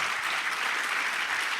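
Sustained audience applause fills the room, dense and steady clapping from many hands.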